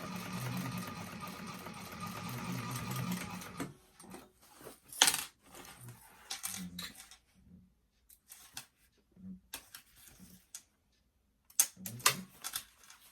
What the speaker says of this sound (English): do a quick back stitch just to lock it into place a little better, and then keep going